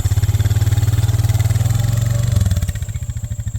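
A four-wheeler ATV engine chugs steadily as it drives across a pasture, a close, loud low-pitched pulsing drone that shifts slightly in pitch partway through and keeps running alone.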